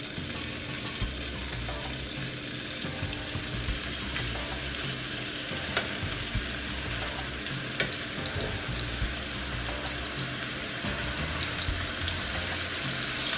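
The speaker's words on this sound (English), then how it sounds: "Now I'm just going to start to carefully add my shrimp." Shrimp fry in a pan of organic Persian lime-infused olive oil, giving a steady, dense sizzle that continues throughout with a few small pops and no voices.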